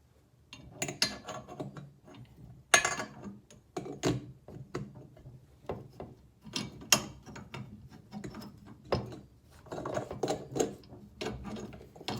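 Box spanner tightening a solid brass back nut beneath a tap, irregular metallic ratcheting clicks and clinks in bursts with scraping handling noise between them, close and moderately loud, no voices.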